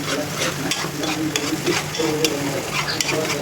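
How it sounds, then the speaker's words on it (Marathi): Khoa for mango barfi roasting in a pan, a constant frying crackle broken by repeated scrapes and taps of a spatula stirring through it, close and fairly loud. "म्हणजे आपला खवा चांगला भाजून जाईल"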